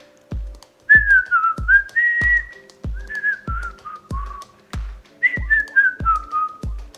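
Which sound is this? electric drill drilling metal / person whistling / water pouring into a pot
person whistling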